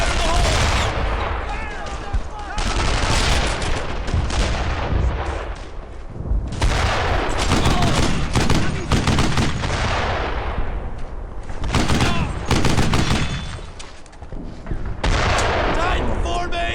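Heavy World War II battle gunfire in Brothers in Arms: Earned in Blood roars almost nonstop, with dense rifle and machine-gun volleys and booming blasts layered over one another, loud and close throughout.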